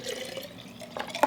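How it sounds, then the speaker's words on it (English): Green juice poured into a mason jar, a short liquid trickle with a couple of drip-like splashes near the end, close and fairly quiet. "since it's green juice, you gotta pour it into a jar."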